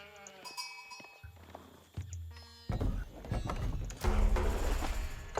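Sheep bleats in an Age of Empires match, several short calls amid game sound effects and clicks, moderately loud with a bit of talk underneath.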